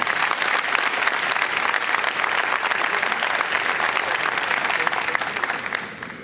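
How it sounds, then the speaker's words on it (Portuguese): A crowd at a Nissan industrial launch event attended by Lula applauds loudly, a thick continuous wash of clapping that holds steady for several seconds before easing off at the end. "Palmas."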